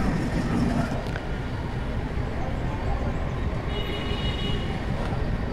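A passenger train picks up speed near Bangalore, heard from inside the coach as a dense, steady rumble of wheels and carriage noise, with faint rattles and a brief higher whine near the end.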